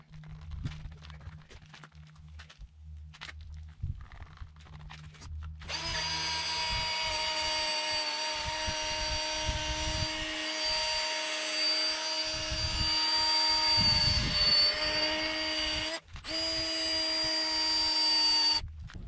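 A polishing machine with a pad works on a car headlight, starting up after a few seconds of quieter handling and then whirring loudly and steadily nearby, with one brief stop before it spins up again.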